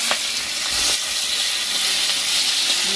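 Chopped tomato hitting a tempering of mustard seeds and five-spice in hot oil, a loud, steady hiss of frying that holds throughout, with a few faint pops and stirs.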